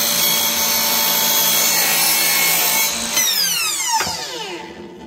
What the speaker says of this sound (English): So I bring my saw down.